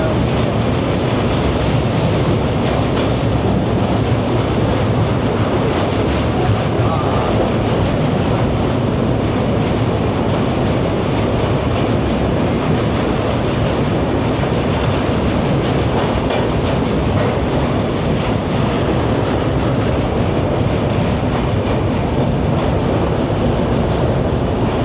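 Train journey from Kolkata to Kalka, the carriage rumbling loud and steady throughout with a constant rolling roar and faint clatter of wheels on track, no voices.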